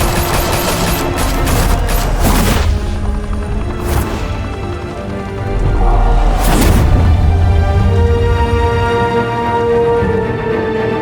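Gunfire in Batman: The Telltale Series, a loud fusillade of rapid automatic shots and bursts with booming impacts across the scene, continuing in dense volleys with no talk.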